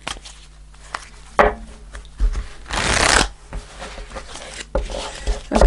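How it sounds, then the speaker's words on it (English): A spirit deck of cards is shuffled at a reading table, giving several papery riffles and rustling bursts with quiet handling between them, close and unaccompanied by talk. "Do one more shuffle."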